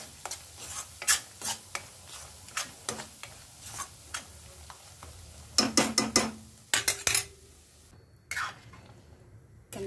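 A spoon or spatula scrapes and stirs thick pav bhaji mixture in a pan, frying it until the oil separates. Irregular clicks and rasping strokes, with a denser burst of scraping toward the end and no talking.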